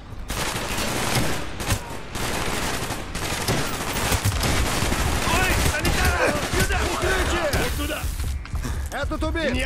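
Dense, rapid gunfire and bursts of shots crackle through a Call of Duty Black Ops battle, loud and continuous with a few sharper cracks, while voices shout over the shooting.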